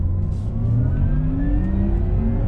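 A Porsche Taycan Turbo S electric car accelerating, its rising tonal whine sweeping upward over a deep steady rumble of motion, heard from inside the cabin.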